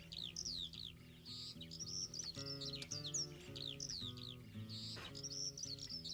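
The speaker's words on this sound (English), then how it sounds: "I like the birds." Bird chirps and tweets repeat in quick bright bursts over a sustained musical backing with steady chords on a track, the calls fairly close and prominent throughout.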